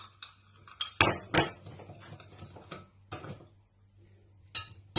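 Salt and food colouring stirred together in a bowl with a spoon for Saudi mandi, producing a series of sharp, close metallic clinks and scrapes with brief pauses between strokes.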